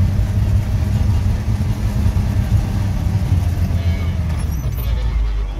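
An off-road vehicle's engine runs in deep winter snow, a steady low rumbling drone as it prepares to pull away, with someone talking over it throughout.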